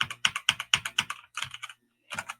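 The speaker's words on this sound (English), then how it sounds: "when you press the keys, they have like a spring sound." Springy gaming keyboard keys struck one at a time in an even rhythm, several sharp close clacks, then a few softer presses, a short pause and a final pair of taps.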